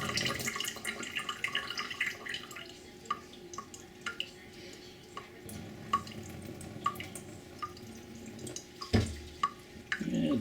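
Water drains from a jar of sprouts in quiet, irregular drips and small trickles, close and faint, with a few soft handling knocks.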